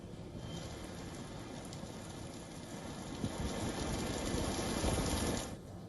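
Torrential rain from Typhoon Ragasa pours down near Hong Kong's coast. The roar is dense and steady, swells louder toward the end and then drops off abruptly, with no voices.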